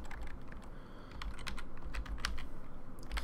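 Typing on a computer keyboard while entering a password prompt on an in-game computer in an FTB Minecraft setup, a steady run of close, light key clicks with no talk.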